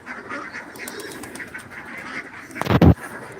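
Ducks in their coop murmur and quack in a soft, steady chatter nearby, then one loud, harsh honking call bursts out near the end.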